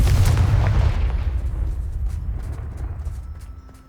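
A Confringo fire spell goes off in Hogwarts Legacy as a loud, heavy blast at the start, then a rumbling roar that slowly fades over several seconds, with faint clicks near the end.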